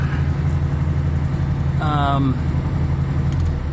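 A 1970 VW Beetle engine running at idle after starting, a steady low air-cooled rumble close by, with a short voice heard over it partway through.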